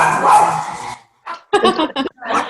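A dog barks several times in quick, uneven bursts, close and loud, following a stretch of noisy background sound, with short gaps between the barks.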